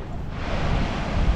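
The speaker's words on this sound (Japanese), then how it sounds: "波の音がすごい、すごいね。" Ocean waves surge and crash steadily on the rocky shore at Cape Nosappu, Hokkaido, a loud continuous wash of surf mixed with wind noise on a foggy day.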